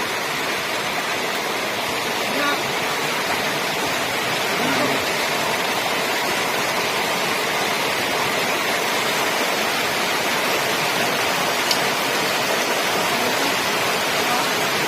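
Steady broadband rush of water gushing out near a tree at an outdoor drinking-water spot, continuous and fairly loud throughout with no clear breaks.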